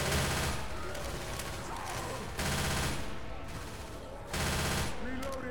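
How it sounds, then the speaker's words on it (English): Sustained machine-gun fire in a first-person shooter match rattles loudly in long dense bursts, briefly dipping between volleys, with game action and voices mixed underneath. "Going with the machine gun."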